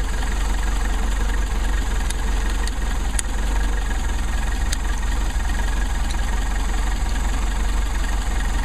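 A Mercedes 190SL engine idles steadily and loudly up close during carburetor adjustment, a constant low rumble with a few faint metallic ticks on top.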